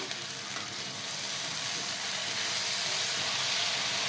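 Frozen green peas and paneer frying in a pan, a continuous loud sizzle and hiss that builds slightly and holds steady, with no voices.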